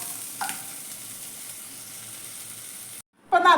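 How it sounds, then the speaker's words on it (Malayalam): Netholi anchovies fry in hot oil in a pan, giving a steady bright sizzle. It breaks off briefly, then surges back louder and crackling as more fish go in. "നമ്മൾക്ക് ബാക്കിയുള്ളത് കൂടെ ഒന്ന് ഇട്ടിട്ട് ഫ്രൈ ചെയ്തെടുക്കാം"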